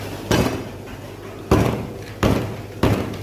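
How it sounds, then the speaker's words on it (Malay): Galangal is pounded on a kitchen surface while making soup, four sharp, heavy thuds spaced unevenly, each with a short ringing tail, close and loud. "Ini lengkuas. Kita ketuk juga macam tadi, macam halia tu punya."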